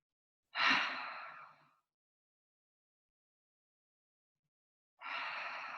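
Two deep breaths during a relaxing yoga session, each a breathy exhale with a soft, airy rush, the first near and fading over about a second, the second starting after a long silence.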